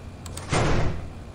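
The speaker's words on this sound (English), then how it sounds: "And remember to close the door." A door closes in the video game Entity Room: a couple of faint clicks, then a single dull thud that swells and fades over a fraction of a second at moderate loudness.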